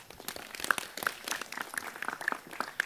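Scattered, fairly quiet applause from an audience at a village gathering in Wonosalam, Jombang, a loose patter of hand claps with a few sharper crackles and no talking.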